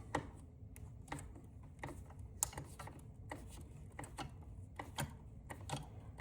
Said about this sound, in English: and tighten the screws down.